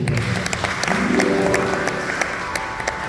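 An audience at a church sermon claps, giving a steady, dense patter of many hands with a murmur of voices and what sounds like music beneath, sustained throughout.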